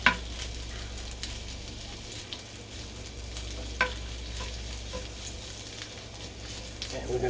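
Onions and peppers fry in a pan for chicken fajitas, a soft, even sizzle under a low hum, with an occasional light clink of stirring and no clear talking.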